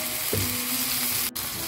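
Pork stir-frying in a pan, a steady sizzle with a brief stirring scrape near the start and a short break near the end.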